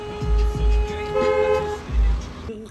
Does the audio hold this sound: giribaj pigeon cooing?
no